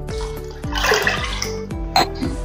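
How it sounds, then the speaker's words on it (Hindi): Water pours into a pan of chana dal pulao during home cooking, a steady close splashing rush lasting a couple of seconds, with no talk over it. "अब इसमें हम पानी डालेंगे"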